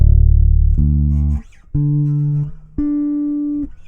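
Three sustained five-string bass guitar notes, each jumping between low and higher octave pitches, played clean and even with short gaps between them.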